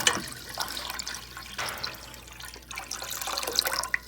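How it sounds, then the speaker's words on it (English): Half a gallon of apple cider vinegar poured into a container for a hot pepper mixture, a steady liquid splash and gurgle with a few surges, close by and moderately loud. "We start with a half a gallon of apple cider vinegar."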